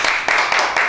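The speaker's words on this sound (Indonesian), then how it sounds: "Woi, tepuk tangan dong." Audience clapping, a loud close patter of hands with a few distinct bursts in quick succession over one second.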